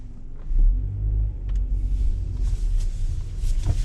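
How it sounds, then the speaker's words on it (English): A 2020 Dodge Journey Crossroad drives along with a low, steady engine and road rumble from inside the cabin. A slight swell suggests gentle acceleration, with no talk. "let me actually go ahead and take it for a drive"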